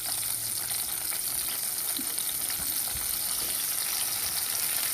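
Whole brinjals fry in oil for stuffed brinjal curry, producing a steady close hiss of bubbling oil with occasional soft pops throughout.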